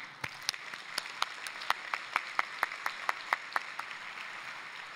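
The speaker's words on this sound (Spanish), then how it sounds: "Me gustaría que recibamos con un fuerte aplauso a Ricardo Grosona" A thin, scattered round of applause welcomes speaker Ricardo Grzona to the stage at a morning conference session: a couple dozen distinct claps spread over several seconds, moderately faint, with no voices.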